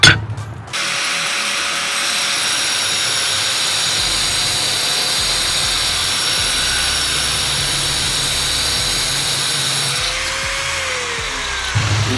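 An angle grinder fitted with a Bosch diamond blade cuts straight through porcelain tile, a loud steady high-pitched whine and grinding rasp that runs nearly continuously before the motor note drops as it winds off near the end.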